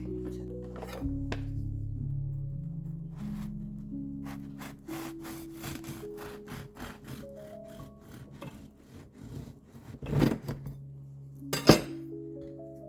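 Baked honey wheat sourdough loaves get flipped out of their pans onto a cooling rack, giving two sharp knocking clunks near the end over a soft background melody and light scraping.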